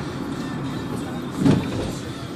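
Car cabin noise while driving, a steady low road-and-engine rumble heard from inside, with a brief soft swell in the middle.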